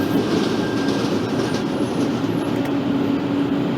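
A Central Line train in the Open BVE simulator rolls along with a steady rumble while thin, high flange squeals rise briefly over it.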